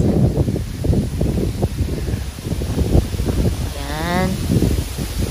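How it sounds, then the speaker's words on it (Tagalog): Strong, gusty wind buffets the microphone outdoors, a steady roar of low rumble, with talk over it throughout. "Grabe ang hangin guys,"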